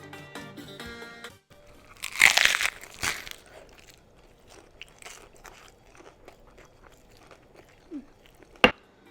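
Loud crunchy bites into fried dumplings, a couple of sharp crackling bursts with quieter chewing and crinkling between them, close up, no talking.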